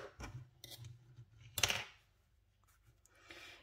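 Scissors snip crochet yarn close by, a few crisp metallic cuts with one sharper snip in the middle, amid quiet handling noises.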